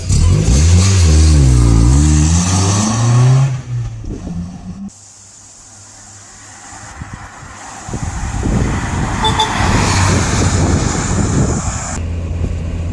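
A 1994 Mazda MX-5 convertible with the top down pulls away from traffic lights, its engine revving up loud and close, then easing off before building again amid wind rush.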